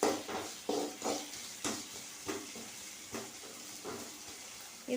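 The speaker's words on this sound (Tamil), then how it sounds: "வெங்காயம் நல்லா வதங்கட்டும்." Onions sautéing in a pan for a morning kuruma, a soft, steady hiss of frying with rhythmic scraping stirs repeating about every half second, fairly quiet and close.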